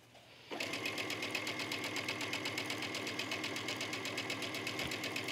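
A sewing machine starts up after a brief quiet moment and stitches through a thick trench coat collar. It keeps up a fast, steady, close mechanical whirr and clatter that stays loud and even to the end.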